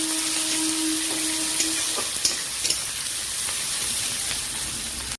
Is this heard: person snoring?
no